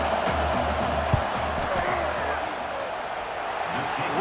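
Stadium crowd roaring before a field goal attempt in EA College Football 26, Iowa vs Wisconsin, a steady broad wash of distant crowd noise with a commentator talking over it.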